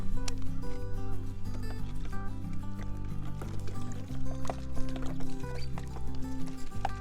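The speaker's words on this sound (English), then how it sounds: "Then I'm going to take some water" Water poured over a gravestone at an old cemetery to rinse off soap, a steady liquid splashing and dripping close by, continuous for several seconds with a low droning background underneath.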